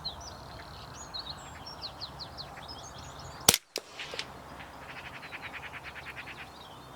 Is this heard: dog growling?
no